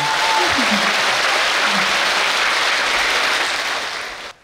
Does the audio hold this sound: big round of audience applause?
yes